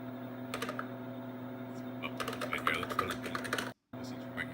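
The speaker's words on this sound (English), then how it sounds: "Look, he's typing an email." Rapid clicking keystrokes on a 1983-era computer keyboard as an email is typed, coming in bursts over a steady electrical hum, with a brief dropout near the end.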